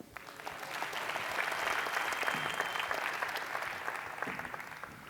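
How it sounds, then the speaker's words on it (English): A crowd at an award show claps steadily, building in the middle and then tapering off, with no voices heard over the applause. "Hold your applause, please."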